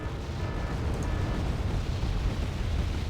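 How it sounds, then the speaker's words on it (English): Artillery shells explode in the real-time strategy game Wargame: AirLand Battle, a continuous low rumbling barrage of distant booms that holds steady throughout without any talk. "Artillery's coming in."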